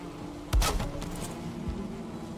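Bees humming around a beehive in Valheim, a steady low insect drone near a patio area, with a short louder burst early on and the buzz continuing faintly underneath.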